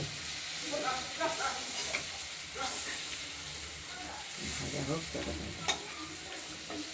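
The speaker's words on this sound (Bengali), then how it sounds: "আলুগুলো আমরা ভেজে তুলব আলুগুলোকে ভেজে নেব" Potatoes fry in hot oil with tempering spices for a giant river prawn curry with tomato, giving a steady close sizzle with occasional stirring scrapes and faint speech underneath.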